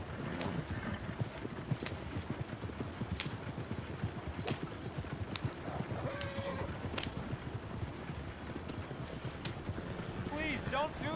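Horse hooves clip-clop in a steady trotting rhythm on a road in the video game Life in 1899, up close and continuous beneath spoken dialogue.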